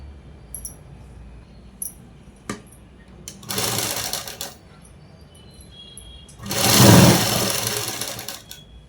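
Two short runs of a sewing machine putting a straight stitch through gathered cloth, separated by a quiet pause with faint handling clicks, the second burst louder and longer.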